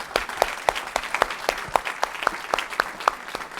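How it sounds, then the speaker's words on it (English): Audience applause for conference panelists after an emerging manager session, a steady crackle of many hands clapping together with sharper individual claps popping out, moderately close and without talk. "Let's give them a big round of applause."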